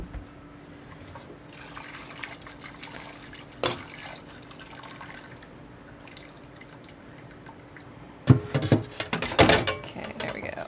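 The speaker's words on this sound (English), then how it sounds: "I could strain it through like a finer sieve if I wanted to, but I'll probably leave the herbs in there that are gonna get through the colander" Homemade bone broth made from kitchen scraps is strained through a colander. Faint scattered drips come first, then a short, louder burst of pouring and splashing liquid near the end, close by.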